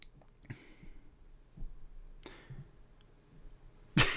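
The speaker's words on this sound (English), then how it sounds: "Azimir Dice is shaking that paper by the mic." A sheet of paper is shaken and crinkled right beside the microphone, giving faint, scattered rustles and clicks. A sharper, louder crackle comes at the end, with no talking.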